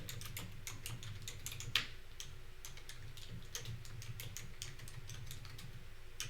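Fingers tap out an email address on a computer keyboard, a quiet, quick run of plastic key clicks in irregular bursts with one louder keystroke, close and faint with no talk.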